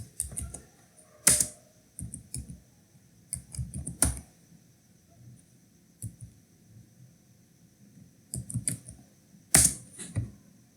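Keys clatter on a computer keyboard in short irregular bursts with pauses between them, close and fairly quiet, with a few sharper single clicks.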